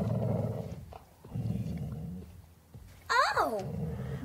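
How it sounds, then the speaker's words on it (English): Alsatian dog in an audio drama, low growling in rumbling stretches broken by short pauses, then a sudden higher yelping snarl near the end. "There's an Alsatian guarding us. Don't come too near or the dog will go for you."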